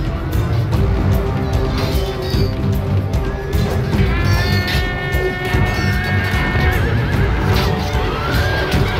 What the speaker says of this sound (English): My opponent's charging in with more cavalry.